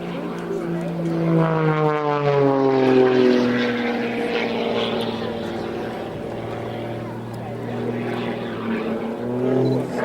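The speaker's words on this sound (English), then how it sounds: "Lots of flick maneuvers there, the aircraft temporarily out of control, but the pilot bringing it back into control." A propeller aircraft performing flick maneuvers at an airshow, its engine droning loudly with a rising and falling pitch as it tumbles and recovers. An announcer's voice talks over it.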